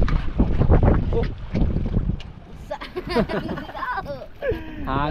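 Strong wind blows outdoors near a boat on open water, with a rumbling buffet on the microphone that is loudest early on, while people talk and laugh throughout.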